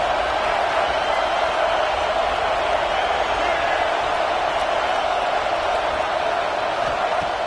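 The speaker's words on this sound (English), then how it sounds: "This crowd ready to make its presence known" A dense, steady roar from a packed stadium crowd at an Alabama vs Clemson college football game, a constant wash of noise with no breaks, while an announcer talks over it.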